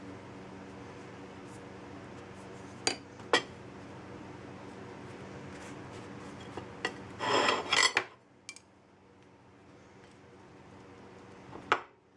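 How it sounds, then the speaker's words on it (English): A knife spreads cream cheese filling across sandwich bread in short, close scraping strokes, a few faint rasps and then a louder burst of scraping near the end before it goes quiet. "Get that spread all the way to the edges so every bite has some of the filling in it"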